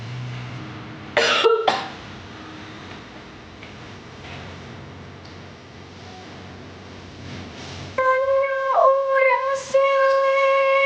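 One short burst of coughing rings out near the start over a quiet room, then later a voice speaks with faint ticking in the background.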